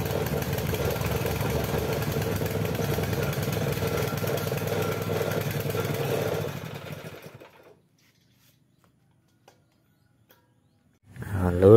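Small petrol water pump engine converted to run on a 3 kg LPG gas cylinder, idling with a steady, loud buzzing drone for about six seconds before winding down and cutting out, followed by silence and a brief restart.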